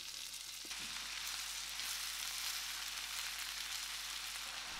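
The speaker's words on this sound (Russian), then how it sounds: "Выкладываем нарезанный репчатый лук." Chopped onion sizzles in refined vegetable oil in a frying pan, a steady close crackling hiss running throughout, with a faint knock near the start and no talking.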